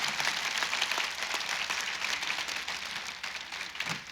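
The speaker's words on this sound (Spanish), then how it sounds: "Un aplauso para ellos, porque tomaron una decisión radical." A church congregation applauds together in a steady, dense wash of clapping that carries on throughout without pause.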